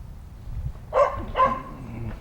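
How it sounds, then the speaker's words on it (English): Two sharp, close barks from a dog in a yard at a house in Tuscumbia, Alabama, followed by a softer whine over faint background noise. "Got a crazy dog."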